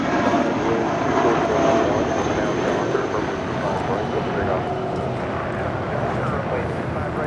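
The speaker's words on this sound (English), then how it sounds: "This is Spirit Airlines Flight 3103 departing to Atlanta, Georgia on an A319." Spirit Airlines Airbus A319 departing LAX for Atlanta: a sustained jet engine roar swelling slightly then easing, with voices talking over it.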